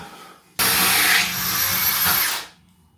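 A power drill grinds into wall tile with a wetted bit, a loud harsh whir starting abruptly, holding for about two seconds, then winding down.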